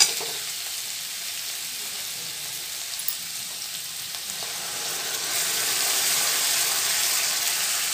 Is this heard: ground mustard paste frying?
yes